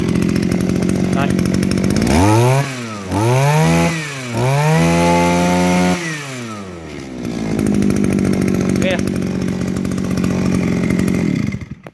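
A brand-new Shindaiwa S24 chainsaw engine idles loud and close, then revs up hard in several rising and falling bursts before settling back to a steady idle, with faint voices in the background.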